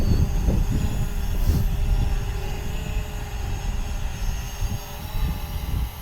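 A Ruko U11 drone flying in follow mode gives off a continuous, loud rotor drone and whir mixed with rumbling wind noise outdoors, steady throughout.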